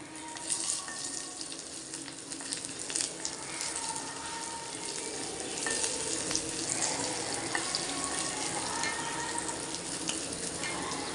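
Hing powder and garlic hit hot oil in a pan, giving a steady close sizzle and crackle that runs the whole time with faint clinks and stirring noises.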